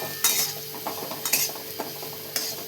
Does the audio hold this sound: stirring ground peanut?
yes